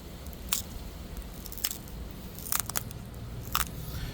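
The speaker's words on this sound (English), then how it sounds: "You can just hear the difference in the good flake from a bad flake, that crunchy sound." A few sharp, brittle crunches and clicks of stone flakes breaking off a biface during knapping, spaced irregularly over a low background hum, close and fairly quiet.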